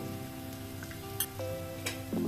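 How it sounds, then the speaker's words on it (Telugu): Spices, turmeric, chilli powder and coriander powder, fry in oil for prawn curry: a soft close sizzle with a few sharp spoon clinks and scrapes against the pan, no talking. "ఫ్రై చేసుకుందాం"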